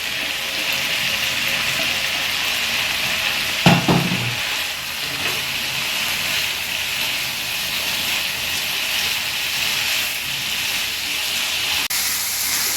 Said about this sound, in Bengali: এবার কাঁঠালটা আলুটা দিয়ে আবার কষিয়ে নেব একটু।